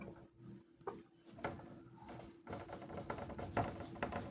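Chalk or marker scratches across a classroom board in short uneven strokes and taps, close and fairly quiet, with pauses between bursts of writing; no talking.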